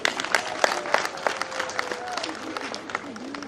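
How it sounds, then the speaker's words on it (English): An audience at a school event claps for the teachers, a scattered burst of applause with distinct hand claps at close range and some crowd noise underneath. "Can you clap for my teachers?"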